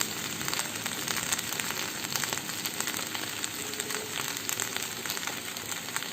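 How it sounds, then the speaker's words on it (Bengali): A spice paste of ginger, green chilli, coriander powder and cumin powder fries in a pan with a close, continuous sizzle and faint stirring scrapes, no talk. "ভালো করে এবারে মশলাটা আমি কষিয়ে নেব।"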